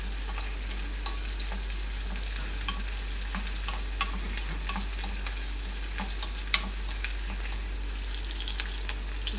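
Chopped garlic and onion fry in a pan for banana heart adobo, giving a steady, even sizzle with scattered light crackles and occasional stirring clicks, no talking.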